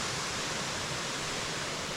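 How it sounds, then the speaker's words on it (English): A waterfall on the Foothills Trail, seen from its top, gives a close, loud and steady rushing roar with no break and no voices. "Top of a waterfall."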